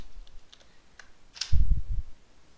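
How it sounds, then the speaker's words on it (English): A short burst of computer keyboard typing, a few soft keystrokes followed by a quicker cluster of clicks, close and fairly quiet with no talking. "type in Google 3."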